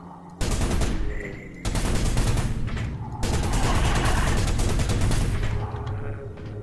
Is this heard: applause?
no